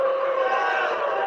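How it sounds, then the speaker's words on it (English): A crowd at a Cubs event boos the Marquee Network in a short, sustained, loud jeer with no break. "you won't be booing about that in a year"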